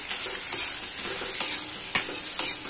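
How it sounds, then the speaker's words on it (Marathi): Paneer cubes frying in a hot pan, a loud continuous sizzle with repeated scraping stirs and turns at an uneven rhythm, close and clear with no talking. "पनीर आपण फ्राय करून घेऊया। तर छान पैकी आपण खालीवर करून लालसर होईपर्यंत भाजून घेऊया।"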